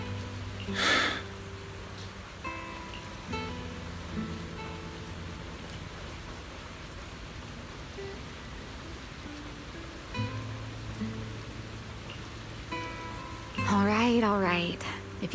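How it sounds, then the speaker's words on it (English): Rain pattering steadily on surfaces in the game Zenless Zone Zero, a quiet, even wash of drops that runs under scattered in-game effects, beeps and a short voice-like sound. "don't stand out here in the rain"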